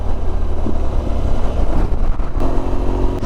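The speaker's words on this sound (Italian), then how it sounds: "Sotto il bosco rimbomba soltanto il rumore del boxer" A boxer-twin motorcycle engine rumbles loud and close on a winding wooded road, a continuous low droning with wind buffeting and no talk.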